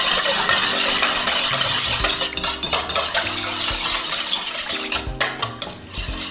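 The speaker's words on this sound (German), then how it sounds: "Und das werde ich mal mit einem Schneebesen" A whisk stirring water in a bowl for bagel dough, a rapid rattling metallic whir that turns into uneven clinking scrapes against the bowl, close and fairly loud.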